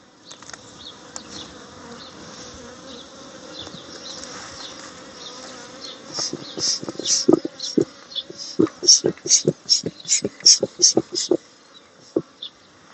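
Honeybees buzz steadily at a Kenyan top-bar hive, a low droning hum that swells into a series of louder, pulsing passes as bees fly close by, with no talk over it.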